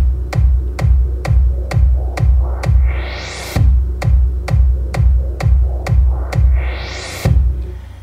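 Sidechained white-noise sweep over a punchy four-on-the-floor kick drum in FL Studio, the rising sweep ducking with each loud kick and building upward twice, with a gap where the last kick drops out.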